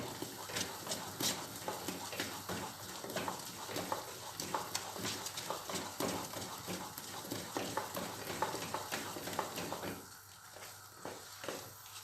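Semolina halva stirred fast and steadily in a pan as it thickens and binds, giving a dense run of scraping, clicking spoon strokes with light sizzling underneath; the stirring eases off near the end.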